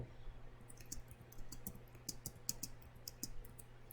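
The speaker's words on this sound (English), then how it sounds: "Type the word agenda in the style indicated." Fingers tap out a single word on a computer keyboard while preparing a meeting agenda, a steady run of light, close clicks over a low background hum.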